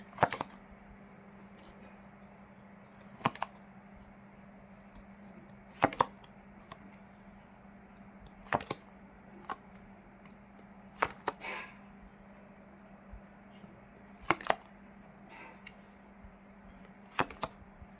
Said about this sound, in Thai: สับไพ่แม่ละเอียดหรือไงเนี่ย